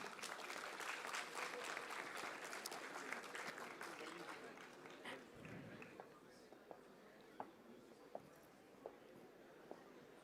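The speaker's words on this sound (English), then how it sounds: "requires a huge round of applause from the audience here" An audience at an AI summit event applauds warmly, the clapping thick at first and then thinning out to a few scattered claps.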